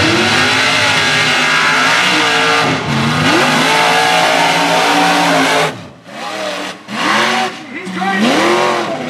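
A Ford mega truck at a mud bog race revs hard, its loud engine roaring continuously, dipping briefly, then surging again in rising pulls while spectators shout over it.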